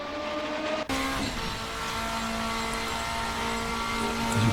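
An RSS race car engine driven at the Croft circuit in a racing sim such as Assetto Corsa or rFactor2, a loud, steady high-revving drone with a brief dip before continuing unbroken.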